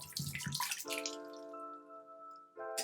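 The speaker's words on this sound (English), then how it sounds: "2 washes is the secret to cleaning your blender bottle with just water" Water splashes and rinses inside a shaker bottle, first as scattered sloshing bursts, then as a sustained ringing tone of water swirling in the bottle, ending with another short splash.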